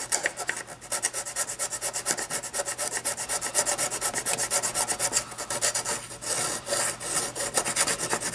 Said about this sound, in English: a set of files can really help, but they do have a tendency to get clogged up pretty quick